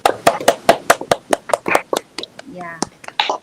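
Classroom students clapping for a classmate and his group after a presentation, a quick run of sharp claps with a voice cutting in briefly partway through.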